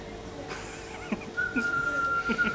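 A person whistles a single steady, high, sustained note partway through, under and between brief bits of talk.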